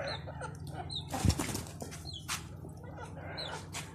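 Pigeons arrive with a brief burst of flapping wings near the listener as wheat grains are scattered for them. Soft rustling, a few chirps and clucks from other birds fill the quiet yard, and no one speaks.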